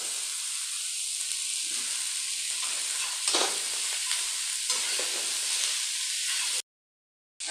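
Bottle gourd fries with turmeric and chilli powder in hot oil, a loud continuous hiss and sizzle with a few stirring scrapes, cutting to silence near the end.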